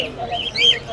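Caged budgerigars chirp at the Mirpur bird market in Dhaka, a quick series of bright twittering calls close by over a faint murmur of market chatter.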